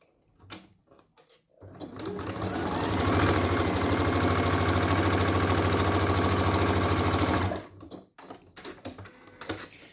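A sewing machine runs steadily for about six seconds, stitching along the edge of a skirt pocket, loud and close with a constant whirring rhythm, preceded and followed by quieter handling noises.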